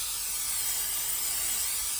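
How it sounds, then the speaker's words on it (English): Buttery-flavored cooking spray hisses from the can onto a pan in one steady, close, continuous spray lasting about two seconds. "so we'll go ahead and spray our pan"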